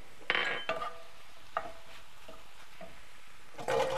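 Shallots stirred around a pan with a spoon, giving a few short scraping bursts over a quiet sizzle, with a louder stir near the end.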